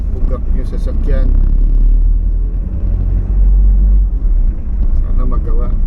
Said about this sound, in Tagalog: bugak-bugak yung sasakyan.